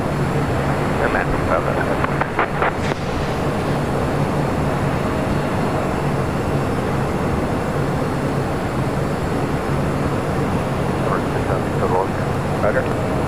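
A continuous roar of an Airbus A320 landing at LAX, broad and steady throughout, with tower radio chatter and voices talking over it.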